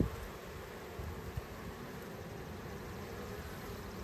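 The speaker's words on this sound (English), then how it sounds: "I love just sitting right here in front of the hive, watching what's coming in and out." Honeybees buzz at a hive entrance in a steady, diffuse hum that stays fairly quiet and constant, with no voices.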